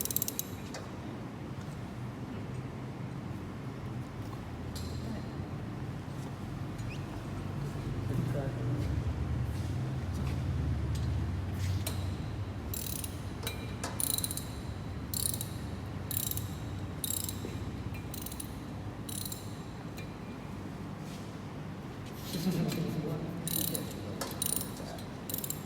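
Removal of a first-stage turbine rotor from a gas turbine engine using lifting gear, with ratcheting, pulley and creaking mechanical sounds and clicks in bursts over a steady low rumble; people talk throughout.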